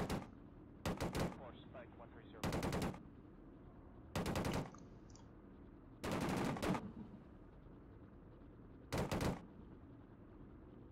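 Bursts of machine gun fire in a military video game, six short loud volleys spaced a couple of seconds apart over a low background rumble.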